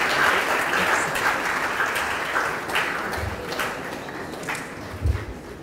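Audience applause after a college engineering public lecture, dense continuous clapping filling the room and fading slightly toward the end, heard alone.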